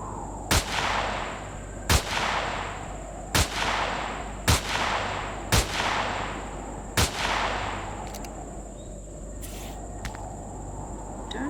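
Enemy gunfire in the video game Empyrion: six sharp, evenly spaced shots ring out over a steady ambient hum with chirping insects, followed by a quieter stretch of background noise.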